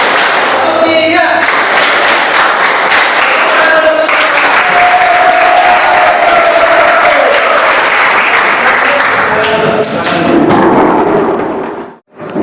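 A classroom of students claps together in a fast, dense burst of rhythmic clapping that holds loudly for several seconds before breaking off suddenly, then resumes briefly.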